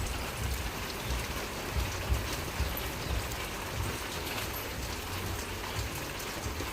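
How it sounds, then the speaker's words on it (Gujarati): Steady morning rain falls on surfaces nearby, a dense even patter with small drop impacts throughout and no voices. "આજ તો સવારમાં વરસાદ ચાલુ થઈ ગયો જો"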